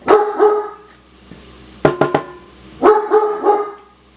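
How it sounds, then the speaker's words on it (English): A dog barks in three bursts of two or three sharp, close barks each, with quiet gaps between, indoors during a storm. "sorry about our dog in the storm"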